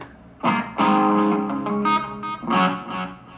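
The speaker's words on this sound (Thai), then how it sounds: "โอเวอร์ไดร์แบบมีดีเลย์" Distorted electric guitar through a Korg AX3000G multi-effects unit playing several chord hits in a loose rhythm, each one trailing off with repeating delay echoes.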